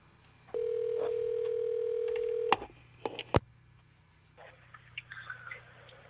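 A telephone call being placed: a steady dial tone holds for about two seconds, then sharp clicks and short tones follow. Faint line noise and muffled sounds come after.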